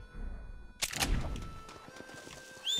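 A horse in Red Dead Redemption gives a sudden sharp whinny followed by hoof and movement sounds, with quiet ambient game audio before and after.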